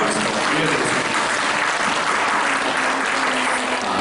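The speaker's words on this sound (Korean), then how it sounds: "우리 다시 한번 주님께 감사의 영광의 박수를 올려드리겠습니다" A church congregation breaks into dense, steady applause of praise, loud and sustained throughout without pause, with no voices standing out.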